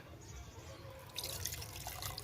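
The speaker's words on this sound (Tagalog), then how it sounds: "lagyan natin ulit ng tubig" Water pours into a glass jar holding an avocado seed being propagated, a soft trickle that turns into a brighter, splashy stream partway through, heard close and fairly quiet.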